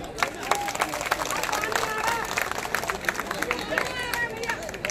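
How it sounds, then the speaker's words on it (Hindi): Crowd clapping rises at a political protest sit-in in Delhi, scattered hands patting steadily among murmuring voices and a speaker talking over the noise. "तालियां कम थी, तालियां जरा ज्यादा बजाइए।"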